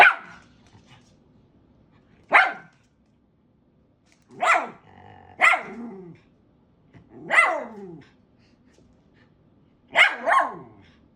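A dog barks loudly in six sharp, separate bursts spread across the stretch, close and clear with nothing else behind it.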